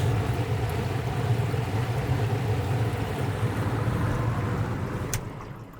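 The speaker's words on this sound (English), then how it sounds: "This is an 12 volt swamp cooler. So you turn this on, and this little water pump loads the bottom of it." A 12 volt swamp cooler in a portable trailer runs steadily with its small water pump feeding the base, giving a constant low whooshing hum of fan and trickling water that holds even for several seconds before easing slightly.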